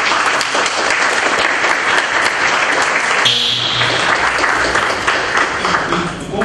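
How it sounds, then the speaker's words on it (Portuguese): A conference audience applauds steadily and loudly, a dense wash of clapping that carries on for several seconds without pause. "uma salva de palmas, né?"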